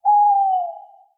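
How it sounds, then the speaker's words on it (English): A single owl hoot sound effect, one clear, sustained tonal call that slides slightly downward in pitch and fades out, close and isolated against silence. "All of those owls are going to have hoots"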